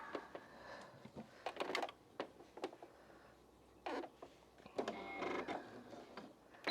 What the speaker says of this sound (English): I'm just going to sew it down at a 1/4 inch.